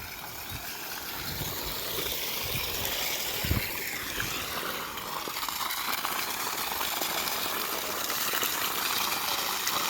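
Water gushing from the outlet of a 3 HP SiddhKala solar pump at a well, a loud, continuous broadband rush that holds steady throughout with no talking.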